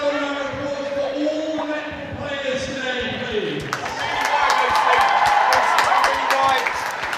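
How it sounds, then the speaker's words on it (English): Crowd applause and cheering at the close of a school netball match, Kings Worcester against RGS Worcester, swelling louder in the second half with dense clapping, and a commentator talking over it. "A great final applause there for everyone involved in today's game."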